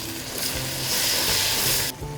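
Chopped tomatoes, two of them, go into a hot masala of spicy red chilli powder for a roasted brinjal bharta gravy, giving a steady, fairly loud sizzle that holds for about two seconds before dropping away.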